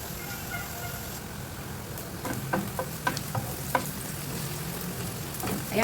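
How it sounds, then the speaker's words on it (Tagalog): Onion sizzling and frying in a pan for a baked Lebanese pasta with tomato sauce, a steady crackle broken by a few sharp clicks of a spoon stirring, with no talking. "habang ginigisa natin yung sibuyas"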